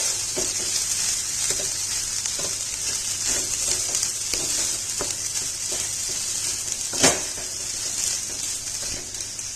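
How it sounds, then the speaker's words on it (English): Masala is stirred in a frying pan over steady sizzling, with soft, regular scraping strokes and one sharper clink near the end. No voice is heard. "And give it a nice stir."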